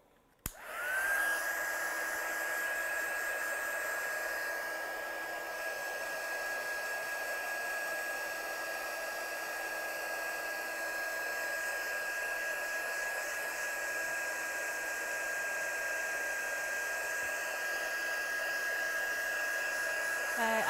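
A hair dryer blows steadily to dry paint on a handmade card, starting with a click and then holding a loud, even whirring hiss with a constant whine for about twenty seconds.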